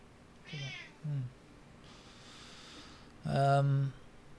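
A house cat meows several times indoors, a couple of short mews followed by a longer, louder drawn-out cry, fairly close amid quiet room tone.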